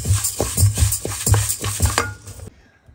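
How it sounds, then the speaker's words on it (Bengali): Mung dal being dry-fried and stirred in a pan for a fish-head curry, with repeated scraping and clattering strokes of the spoon against the pan in a steady rhythm, close and fairly loud, ending abruptly. "আর এখানে আমি মুড়ো ঘন্টের জন্য মুগ ডালটা একটু ভেজে নিচ্ছি"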